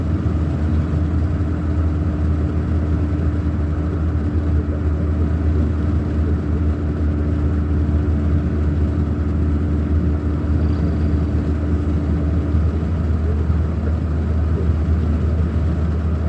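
A truck engine runs steadily at idle close by, a continuous low rumble with a faint mechanical hum that holds evenly throughout with no voices.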